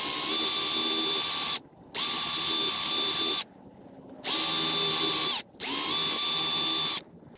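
A power tool buzzes loudly in four long bursts with short silent gaps between them, cleaning rust off the bolt threads and washer during a rear shock replacement on a 2002 Toyota 4Runner.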